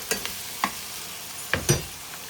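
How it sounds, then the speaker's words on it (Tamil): Eggplant pieces dropped into hot oil and stirred, with soft sizzling under a few sharp scraping clinks of a utensil against the pan. "இந்த எண்ணெயிலேயே நம்ம கத்திரிக்காவை போட்டுறணும் மக்களே."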